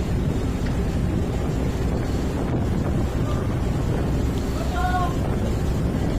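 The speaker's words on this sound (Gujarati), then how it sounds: "ફૂલ પવન છે." Strong wind buffets the open deck of a ro-ro passenger ferry in rainy weather, making a loud, constant roar and microphone rumble, while a voice talks faintly beneath it.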